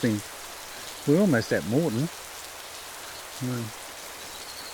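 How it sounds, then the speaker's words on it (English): Steady rain hisses throughout as a broad wash of noise, with someone talking briefly over it at the start and in the middle. "Pouring rain"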